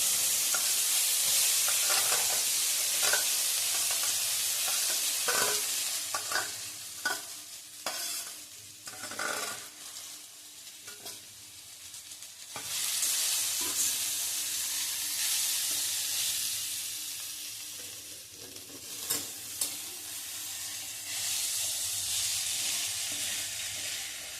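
Coarsely ground green pea filling with a pinch of turmeric sautéing in a pan, steady sizzle punctuated by repeated scraping and stirring strokes, softer gaps between bursts of frying, no speech.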